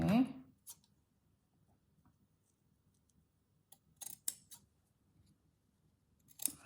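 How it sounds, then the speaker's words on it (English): Scissors snip through a small square of mustard-coloured quilting fabric, a few short crisp cuts close up, with quiet pauses between them and a voice heard briefly at the start. "So let's cut another mustard"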